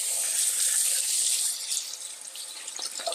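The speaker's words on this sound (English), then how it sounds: "give them a quick rinse." A kitchen sink tap runs steadily as celery stalks are rinsed under the stream, a close, hissing flow that eases slightly and turns more spattery toward the end.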